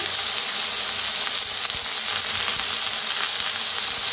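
Mixed vegetables, including carrots and potatoes, roasting in a pan over a wood-fired clay stove give a steady, dense sizzle and hiss, close and continuous throughout with no talking.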